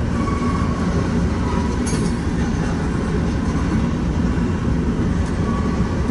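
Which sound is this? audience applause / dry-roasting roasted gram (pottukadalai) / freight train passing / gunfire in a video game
freight train passing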